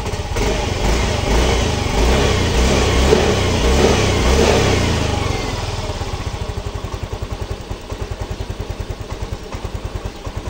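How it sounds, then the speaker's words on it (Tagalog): A Yamaha Mio Soul i 125 scooter engine with an idle fault revs up loudly and roars for several seconds, then settles into a fast, rhythmic idle putter close by. "Painitin mo na ang makina."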